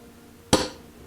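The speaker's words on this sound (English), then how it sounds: "we use the punch to make sure it's really marked" A single sharp metallic tap of a center punch marking a spot for drilling on a 1964 ES-335 style guitar in a workshop, one crisp strike with a short ring in a quiet room.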